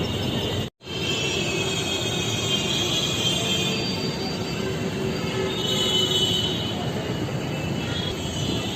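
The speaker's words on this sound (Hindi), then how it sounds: "तो ये लो दोस्तों ट्रेन पहुंच चुकी है" A Delhi metro train pulls into the station with loud, continuous wheel squeal and rumble. It stays steady throughout, close by and filling the space.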